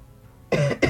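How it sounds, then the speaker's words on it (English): Two quick coughs, the first longer and the second a short follow-up, close and clear after a moment of quiet. "I'm coughing."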